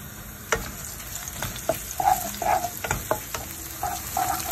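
Chopped garlic fries in hot oil for masala cauliflower with a steady, close sizzle. Scattered stirring scrapes and clinks break in now and then.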